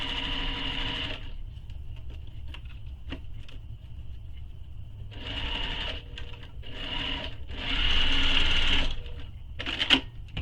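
Short, close bursts of sewing machine stitching start and stop several times as a zipper edge is sewn in place on a piece of a small messenger bag, with a softer background hum between runs.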